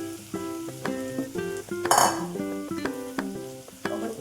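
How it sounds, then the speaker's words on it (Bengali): Potato pieces and soybean chunks hit hot oil in a pan, setting off a sudden bright burst of sizzling that settles into a steady frying hiss, with pan clinks and background music throughout. "এখন আমি এখানটায় আলুটা দিয়ে দিব। দেখো আমি সয়াবিনটাও দিয়ে দিলাম।"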